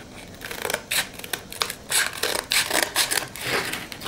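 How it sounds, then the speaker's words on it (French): Old scissors snip through sandpaper, a series of short rasping cuts in uneven rhythm, close and fairly loud with no talking. "je prends une vieille paire de ciseaux parce que l'abrasif"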